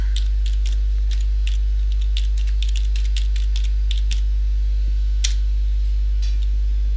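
Fingers type text on a computer keyboard in quick irregular bursts of clicks with short pauses. A loud, steady low hum runs underneath, and there is no talking.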